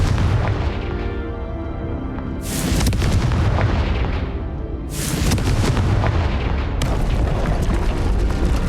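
Fiery Confringo spell blasts in Hogwarts Legacy, three loud booming explosions a couple of seconds apart, each a sharp burst trailing into a rumbling roar, with no talk.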